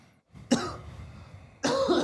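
Two separate coughs, short and close, with a brief pause between them and no talking.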